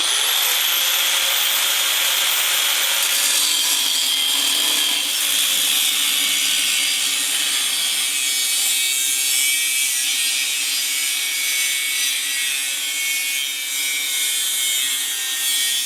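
Abrasive cutting wheel grinding through a Honda Rebel 250 TC Bros rear fender, a steady harsh high-pitched whine running continuously and loud at close range with no talk.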